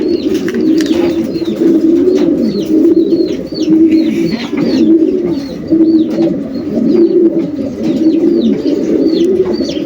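Young racing pigeons being basketed for a 400+ km race coo in a dense, continuous chorus of overlapping throaty calls, loud and close, with light chirps and fluttering above them.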